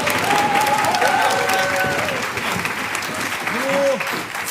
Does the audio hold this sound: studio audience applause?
yes